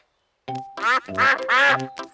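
Several loud, nasal quacks come in quick succession, close by, a small group of cartoon ducks calling over one another.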